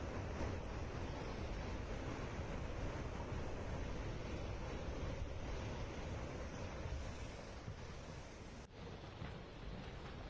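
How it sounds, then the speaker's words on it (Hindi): The Teesta river runs swollen after landslides and heavy rain in Sikkim, giving a loud, continuous rushing roar of floodwater with steady wind-like noise and no break across the whole stretch. "लैंडस्लाइड की वजह से तीस्ता नदी में आप देख रहे हैं कैसे उफान आ चुका है।"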